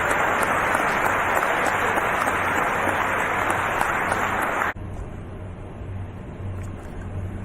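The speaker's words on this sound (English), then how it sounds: "Yes, please clap for them." Loud, sustained crowd applause fills an NBA Hall of Fame enshrinement hall, then cuts off abruptly partway through, leaving a quieter room hum.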